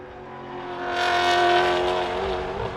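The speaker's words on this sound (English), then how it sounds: "Great noise from the Mark II Mustang as it comes over the hill" A Mark II Mustang race car with a Coyote engine comes over a hill at Sydney Motorsport Park, its tonal engine growl rising to a loud peak mid-clip and easing slightly as it passes, with no talking.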